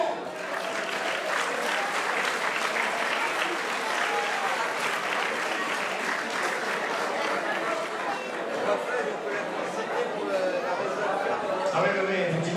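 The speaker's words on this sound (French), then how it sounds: "Merci d'applaudir Corinne Edmond." Long, steady applause from a ceremony audience honouring a podium recipient, many hands clapping in a dense continuous wash, with faint chatter and laughter mixed in.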